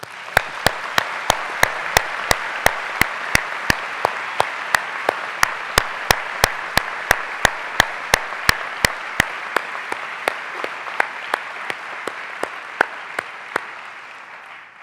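An audience at a West Virginia University medical school commencement applauds in a large hall, sustained broad clapping with sharp, regularly spaced loud claps cutting through, slowly fading near the end.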